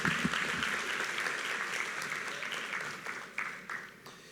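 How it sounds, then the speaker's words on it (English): Applause from the audience at a high school graduation ceremony, a moderate round of clapping that starts full and gradually thins out, with a few brief bursts near the end. "Let's give the Chairman another round of applause, please."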